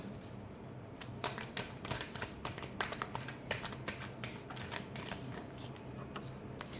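Tarot cards being shuffled produce a quick, close patter of soft riffling snaps in uneven bursts over a faint hiss.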